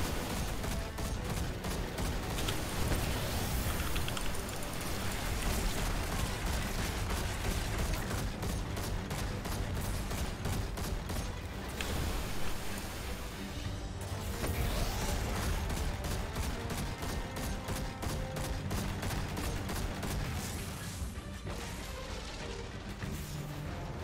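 Dense gunfire and explosions fill a busy video game firefight, a constant loud barrage of shots and booms with no letup.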